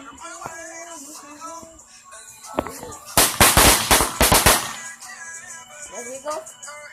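Fireworks and firecrackers going off nearby, a rapid cluster of loud sharp cracks and bangs after scattered pops, with people talking and cheering around them.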